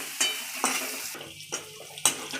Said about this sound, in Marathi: आपली सोयाबीन वडी पण चांगली फ्राय झाली